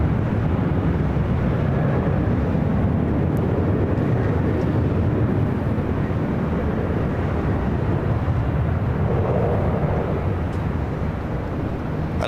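An airplane descends toward runway 25 left at LAX, a broad, steady low roar of engines and rushing air holding loud throughout.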